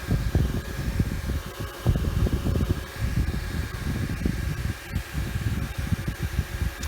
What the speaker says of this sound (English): the fan sound is pretty reasonable.